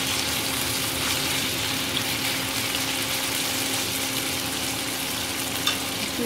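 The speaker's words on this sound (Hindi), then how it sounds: "चिकन डाल देंगे। अच्छे से फ्राई होने देंगे।" Chicken frying in a pan gives off a loud, steady, close sizzle that holds unbroken throughout, with no voices.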